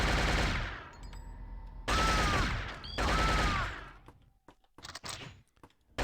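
Three loud, rapid bursts of machine gun fire in the Shogo shooter game, each lasting about a second, followed by scattered quieter clicks and shots.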